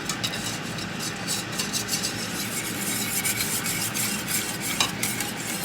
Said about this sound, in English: Just going to keep whisking this.